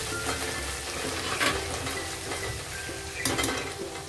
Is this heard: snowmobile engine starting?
no